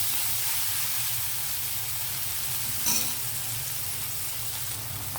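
Curry ingredients fry in a pan for a protein curry, giving a steady, close sizzle with a constant hiss and a brief stir near the middle. Nobody speaks.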